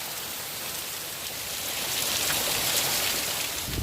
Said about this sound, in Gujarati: અત્યારે વરસાદ ફૂલ ચાલુ છે